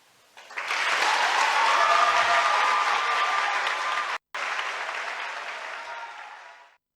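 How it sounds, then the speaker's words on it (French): Audience applause at a French-language talk show, a burst of clapping that swells quickly, holds steady for several seconds with a brief cut, then tapers off. "On applaudit."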